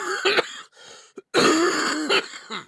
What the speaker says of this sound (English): I gotta force myself to cough now a little.